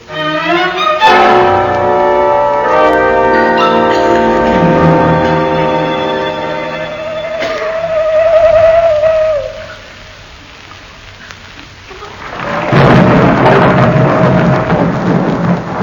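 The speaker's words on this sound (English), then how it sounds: "Owl hoot and a thunderstorm." Deep rumbling thunder rolls over steady rain, with a low owl hoot sounding in the middle before the storm swells again.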